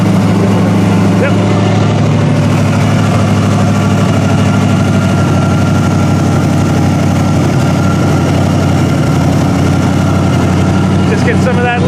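Engine of a full-frame metric GM car running steadily, a loud low rumble with constant idling drone throughout, with voices talking faintly over it.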